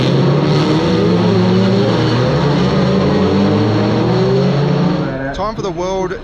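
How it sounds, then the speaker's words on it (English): GT3-based GT Cup race cars, power-restricted to 500–600 horsepower, roar around the Macau street circuit in qualifying: a loud, sustained engine howl with shifting pitch for about five seconds, then fading, with a voice talking over it. "GT Cup cars. These are based on a GT3 specification with power restricted between 500 and 600 horsepower"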